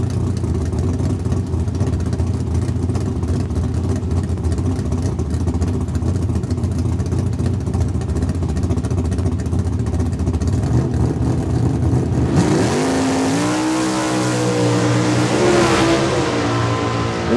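A Mustang and a Duster drag racing at Saskatchewan International Raceway, with loud mid-pitched engines running steadily, then sharply revving with rising pitch as the cars launch, close and dominant throughout.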